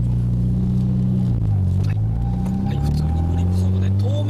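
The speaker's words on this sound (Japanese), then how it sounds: "ハンドル切ってポンとアクセル踏むっていうとこからスタートしてみましょう" Car engine drones and shifts pitch as the car drifts around pylons on a drift circuit, rising on the throttle, with an instructor talking over it throughout.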